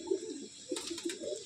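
Small-feathered loft pigeon cooing in a few soft, low, throaty bursts, close by, with faint background hiss and no talk.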